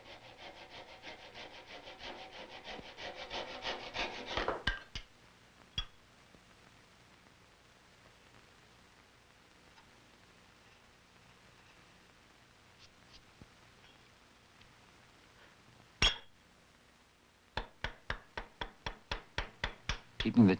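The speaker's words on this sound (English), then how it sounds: "Keeping the chisel very sharp is important while cutting hard maple on the end grain." A sharp chisel cuts into hard maple end grain for a colonial gun stock, giving close, quiet rasping strokes, then a run of evenly spaced, distinct cutting scrapes toward the end.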